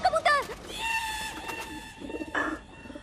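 A pigeon arriving: bird calls and cooing with fluttery chirps, brief and close, over a faint background hum.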